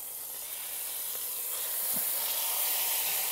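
Pork roast browning in a hot pot: a steady, close hiss of sizzling fat and steam that slowly grows a little louder, with one faint bump partway through and no talking.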